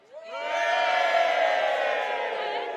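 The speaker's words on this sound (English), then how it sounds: "Crowd, can you cheer again?" A large crowd cheers and roars at a London political event, rising quickly and holding a loud, sustained swell of voices with no talk over it.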